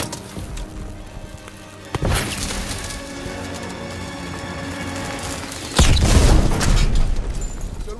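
A thermite charge explodes in the Call of Duty WW2 video game, a sudden loud blast followed by sustained roaring rumble and debris, then a second heavier boom near the end, with no voices.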